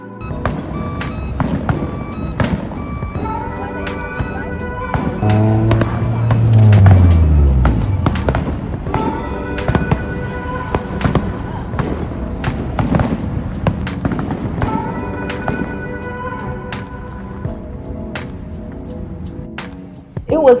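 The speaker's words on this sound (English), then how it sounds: "Now we being blessed with fireworks." Fireworks going off at night, a loud stretch of bangs and crackling with a swell in the middle, mixed with background noise and some voices.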